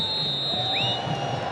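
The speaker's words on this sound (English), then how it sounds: "The crowd just going berserk." Stadium crowd roaring at an Africa Cup of Nations 2006 football match in Egypt as the home side goes 3-0 up against Libya, a dense sustained wall of cheering with a loud whistle-like tone running through it.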